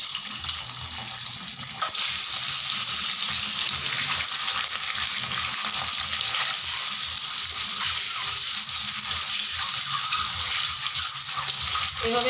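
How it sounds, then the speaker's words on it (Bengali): Boiled eggs fry in hot white oil with a steady, loud crackling sizzle that runs unbroken throughout, close by and with no voices. "তেল গরম হয়ে গেছে, আমি ডিমগুলোকে দিয়ে দিচ্ছি"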